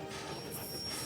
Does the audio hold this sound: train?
yes